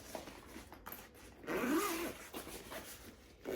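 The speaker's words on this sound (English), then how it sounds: "The zipper opens right up, and there is the drum inside." A zipper slides open on the small zippered carrying bag of a Get Well steel drum, a single brisk pull rising clearly above a quiet room.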